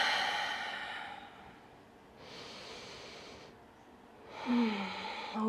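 Deep, slow breaths during a yoga hip-opening flow come through faintly in a quiet room: a long exhale, a softer breath in the middle, then another audible inhale and exhale near the end.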